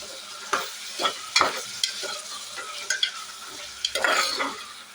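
Chopped tomatoes being stirred in a pan for tomato thokku, a spoon scraping and clacking against the pan in irregular strokes over a soft sizzle, close and without talk.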